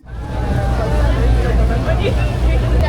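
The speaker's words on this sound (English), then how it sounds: "So right now we're riding the ferry to Goree Island." A crowded ferry bound for Gorée Island carries a steady low engine rumble and water noise beneath the murmur of many passengers, with a nearby voice talking over the drone.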